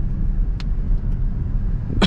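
A Honda Brio engine holding a low, steady rumble while driving at around 2000 RPM, heard from inside the cabin, with a couple of faint clicks and no speech.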